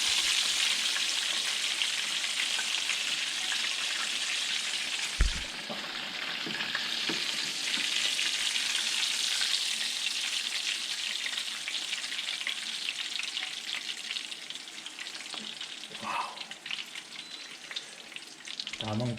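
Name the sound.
pork chops frying in oil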